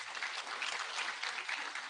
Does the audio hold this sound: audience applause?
yes